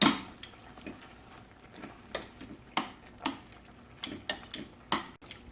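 Butter sizzles in a pan while roast beef gravy cooks, with sharp taps and scrapes of a stirring utensil against the pan at an uneven rhythm and no voices.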